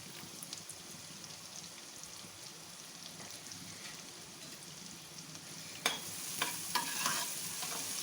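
Cumin, garlic and ginger frying in a pan for chana dal, a soft steady sizzle at low level with a few scrapes of stirring, growing louder and busier toward the end.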